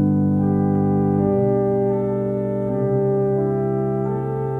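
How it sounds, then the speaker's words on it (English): Pipe organ principal 8-foot stop on the Great manual playing sustained chords, a full, steady foundation tone with smooth changes between held notes, loud and clear. "First of all, a principal 8-foot, which sounds like this."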